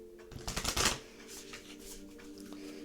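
A deck of tarot cards is shuffled by hand in a short, close flurry of riffling snaps, followed by fainter soft card sounds.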